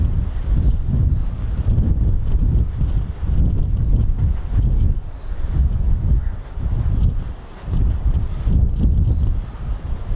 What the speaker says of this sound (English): It's a bit windy for this.